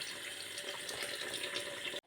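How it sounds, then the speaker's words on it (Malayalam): Water is drained off washed butter before it is melted for ghee, a continuous soft pouring and trickling at low level that stops abruptly at the end, with no voices. "ഇനി നമുക്ക് ഈ വെള്ളം ഫുള്ള് ഊറ്റിക്കളഞ്ഞിട്ട് വേണം ഉരുക്കാൻ വെക്കാനായിട്ട്."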